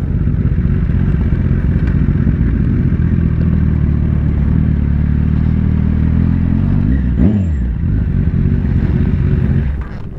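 Four motorcycles idling loud and close with a deep rumbling drone, one briefly revving up near the end before settling back.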